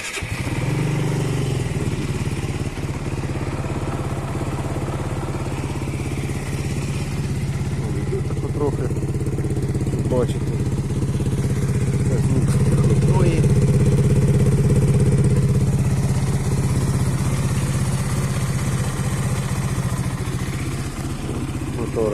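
A Benelli TRK 251 motorcycle engine runs steadily at idle for the whole stretch, a moderately loud, even low hum that swells slightly in the middle, with faint background noises on top.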